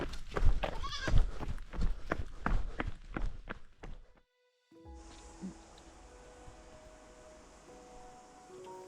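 A goat bleats repeatedly in a quick run of calls alongside footsteps on a trail at night during a long-distance run on New Zealand's Te Araroa, then the bleating gives way to a steady outdoor ambience.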